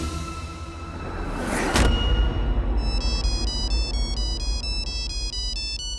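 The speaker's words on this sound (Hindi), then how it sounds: "मैं उठाता हूँ, उसी लंगूर का फोन होगा ना।" A phone ringtone starts after a brief whoosh, then plays a bright electronic melody of stepping tones that repeats over a low steady background hum.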